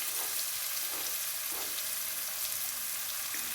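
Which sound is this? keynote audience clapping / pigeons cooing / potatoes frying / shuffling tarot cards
potatoes frying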